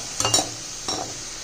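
Onions frying in a pan until golden brown for egg biryani, a close sizzling hiss with two short bursts of stirring scrapes.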